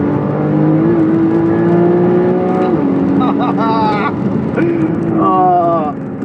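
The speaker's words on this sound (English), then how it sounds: "Flat 6 just sounds so good." A loud Porsche flat-six sports car engine revs and climbs through the gears, its sharp rising whine dropping at each shift, with voices heard partway through.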